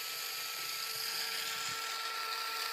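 A small rechargeable electric kitchen chopper runs with a steady, high-pitched motor whine that stays even and fairly quiet throughout, with no talking.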